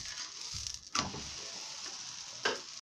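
Chapati sizzling in oil on a hot pan, a quiet steady frying hiss with two brief louder scrapes or flips breaking through near the start and end.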